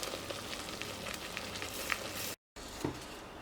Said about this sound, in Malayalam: ഈ ഒരു സവാള വഴറ്റുന്ന സമയത്ത് നന്നായിട്ട് വഴറ്റി കൊടുക്കുക